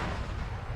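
A vehicle cooks off in an Arma 3 multiplayer operation, a dense, loud explosive roar filling the whole moment with rumbling low-end and crackling spread.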